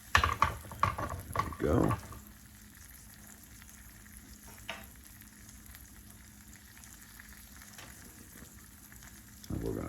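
Eggs cooking over easy sizzle in a pan as they are flipped, with a burst of scraping and spatula clatter at the start, then a quiet, steady frying hiss; a voice speaks briefly.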